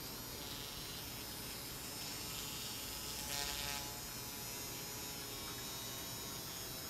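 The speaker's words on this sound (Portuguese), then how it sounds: "Vou ligar o motorzinho aqui, ó." A small electric motor spinning a handmade PCB base spinner, giving a steady, faint, continuous buzzing whir that holds an even pitch throughout with no talking.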